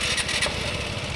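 A rental scooter's small engine starts and settles into a steady buzzing idle, close and loud, outdoors on an off-road trip in Croatia.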